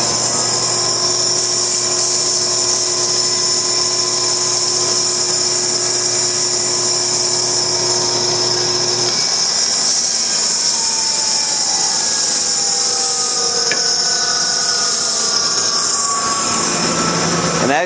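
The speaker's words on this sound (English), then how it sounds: "This is what you call a belt sander." A belt sander smooths a wooden baseball bat in a factory, a loud, steady high-pitched whine and grinding hum that shifts in tone partway through as pressure changes.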